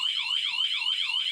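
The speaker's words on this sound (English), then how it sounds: "The system immediately will make an alarm, meaning that is a false alarm because it is you the system has detected." An intrusion alarm panel sounds right after a motion detector is triggered, producing a loud, close electronic siren that sweeps up and down in a fast, steady warble without pause.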